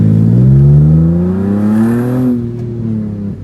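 Loud Infiniti G35 exhaust at a car meet, a strong rising and falling rev held close up for several seconds, with a low engine drone and faint crackle as it drops off.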